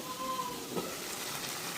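Chicken meat being sautéed in a lightly oiled frying pan on a home stove gives a steady, close sizzle that holds evenly throughout, with no one speaking.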